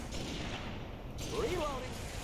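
Rocket launcher fire and battle explosions in Halo 3: ODST, muffled booming blasts under a steady rumble of combat, with a voice speaking over it.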